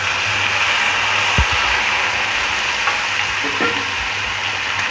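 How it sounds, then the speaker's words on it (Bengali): A pan sizzles steadily as poppy seed paste, with a little water, is stirred into drumsticks and potatoes, a constant close frying hiss broken by a couple of brief spoon scrapes. "এবার পোস্তটা ডাঁটা আলুর সাথে মিশিয়ে নিতে হবে।"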